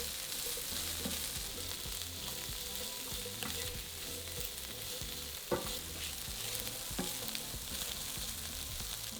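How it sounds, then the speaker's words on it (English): Minced garlic and chopped spring onions stir-frying in a frying pan, a continuous close sizzle broken by a few sharp scrape and clack sounds from stirring, with no voices. "add in 2 cloves of minced garlic and 3 chopped spring onions or scallions. Fry for a further minute, stirring often"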